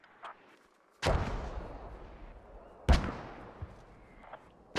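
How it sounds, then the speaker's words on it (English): Mortar shells from an artillery barrage detonating in the military shooter game Squad: two heavy, booming blasts a couple of seconds apart, each with a long rumbling decay, plus a few fainter distant thuds between them. "More mortars out."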